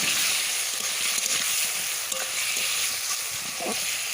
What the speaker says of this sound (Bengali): আলুটা দিয়ে বেশ কিছুক্ষণ কষাবো